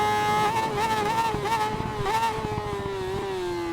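A Yamaha R6 sports bike engine screaming at very high revs on a track, its pitch rising and falling in quick repeated surges before settling into a steady high whine, loud and close throughout.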